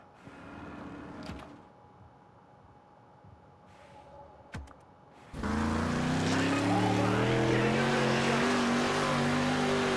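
A street stock race car in the World of Outlaws: Dirt Racing video game starts quiet with a couple of faint knocks. Around the midpoint it bursts into a loud, sustained engine roar with rising harmonics.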